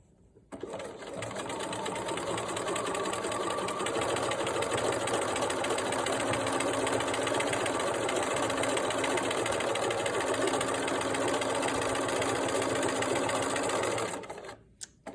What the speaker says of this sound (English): we're going to top stitch these seam allowances down. And we're just going to top stitch them all the way across